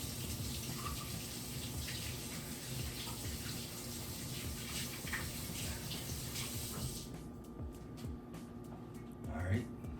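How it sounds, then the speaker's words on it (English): A kitchen tap runs steadily for hand washing after mashing avocado, a close, even rush of water that stops around seven seconds in, followed by a few faint clicks and clatters. "I'm gonna wash my hands because avocado be sticky as hell"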